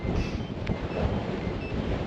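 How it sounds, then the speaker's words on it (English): Strong wind on the summit of Moel Cerrig Duon, a Welsh mountain, roars in a dense, steady rush buffeting the microphone with no pauses; no one speaks. "it's so windy"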